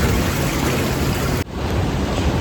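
Sea waves at Varkala North Cliff beach surge in a loud, continuous wash of surf close by, with wind buffeting the microphone and a brief dip before the roar resumes.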